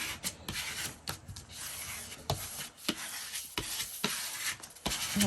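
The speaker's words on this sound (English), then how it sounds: "I'm going to squeegee it all down, make sure I got it stuck down really good." A squeegee rubs paper flat onto an ephemera storage book in a series of close, scratchy strokes with short sharp scrapes between them, and no voices.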